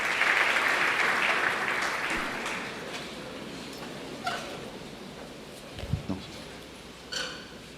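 A church congregation applauds during a worship service, a broad wash of clapping that is loudest at the start and gradually thins out, ending in a few scattered claps and small knocks.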